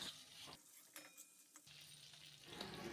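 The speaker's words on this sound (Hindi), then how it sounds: "तो इन सबको अच्छी तरह से भून लेते हैं।" Onion, chilli, garlic and boiled potato fry in a pan with a quiet, close sizzle, broken by a few soft scraping stirs and light clinks, with no voices.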